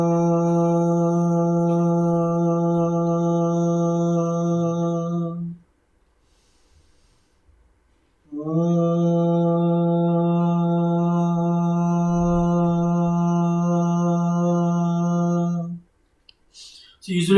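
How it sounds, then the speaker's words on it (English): Bhramari breathing practice: a steady, strong nasal hum voiced on the exhale for about six seconds, then a quiet in-breath, then a second long even hum of about seven seconds, close and alone. "I can just take a simple breath and then release with humming sound like this."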